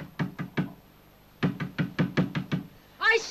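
Knocking on a door in two bursts, three quick raps then six more after a pause, close and firm, with a voice shouting at the end.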